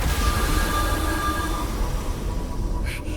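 A train rumbles along steadily in the video game Wuthering Waves, a dense continuous rolling roar with faint metallic whine above it, loud and close throughout.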